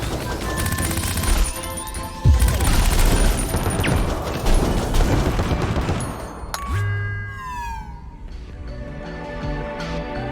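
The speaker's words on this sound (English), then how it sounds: "They just fly through the wall and break the window and start shooting." Gunfire and a crash of breaking glass in the intro of the game CrossCode, a dense, loud burst of shots and impacts running throughout with a sharp smash near the start, followed by electronic game sound effects.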